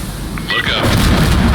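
A rocket explosion in the video game Insurgency Sandstorm lands as a loud, close, low boom that swells and rumbles on to the end of the clip, with a brief higher crackle just before it.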